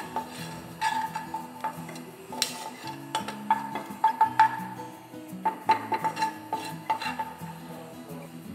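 Marinated chicken is added to a pan and stirred as it cooks, with repeated scraping and clinking of a utensil against the pan over a faint sizzle.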